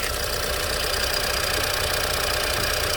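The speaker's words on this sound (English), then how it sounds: "I'm hearing just a little bit of valve tick." Idling 2017 Lincoln MKZ with a 2.0 EcoBoost direct-injected engine, heard up close as a steady mechanical hum with a faint, rapid valve tick running evenly throughout, no voices.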